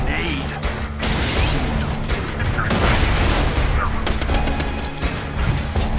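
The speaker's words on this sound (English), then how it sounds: "Throwing grenade." Loud, dense Borderlands 2 firefight with a grenade blast and bursts of gunfire, crashing impacts and mechanical clatter packed together without pause, with a voice briefly heard in the mix.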